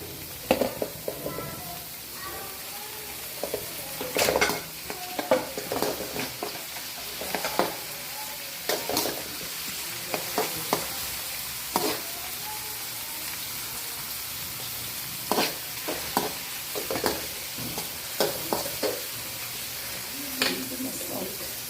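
Beans and vegetables stir-fried in oil in a pan, a steady sizzle under repeated sharp scrapes and clacks of a spoon against the pan at an irregular pace throughout.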